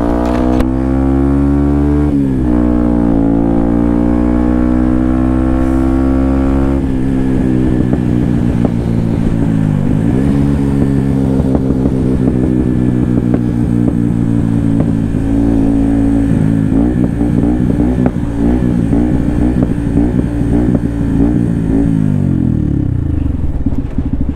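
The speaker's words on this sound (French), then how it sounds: "j'espère qu'on aura bien entendu le son de la moto" A Yamaha WR 125 supermoto engine revs loud and close, its throaty Arrow aftermarket exhaust rising and falling in pitch before settling into a rough, popping idle.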